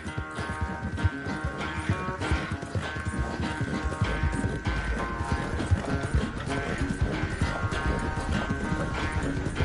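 Horse hooves clip-clopping in the video game Red Dead Redemption 2, a steady trot heard close up under a thick bed of music and ambience that keeps going throughout, loud and continuous.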